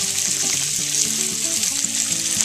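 Tofu pan-fries in oil with a continuous close, crackly sizzle, steady throughout, over soft background music.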